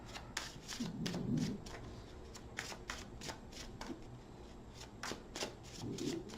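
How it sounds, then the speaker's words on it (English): Tarot cards being shuffled in repeated quick riffles, crisp papery bursts up close, with a few soft handling pauses between them. "One more shuffle."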